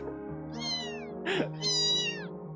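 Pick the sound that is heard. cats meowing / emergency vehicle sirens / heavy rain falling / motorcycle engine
cats meowing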